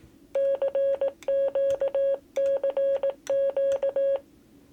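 Crisp, evenly pitched Morse code tones from the practice keyer of a Quansheng UV-K1 handheld radio, sounding in four clipped groups of beeps, clear and close.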